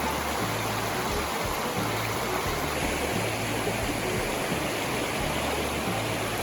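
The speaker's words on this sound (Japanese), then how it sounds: "私の好きな下流の風景。 支流と本流がぶつかる場所。" Steady, full rush of a river where a tributary joins the main stream, a dense continuous roar of flowing water with no voices.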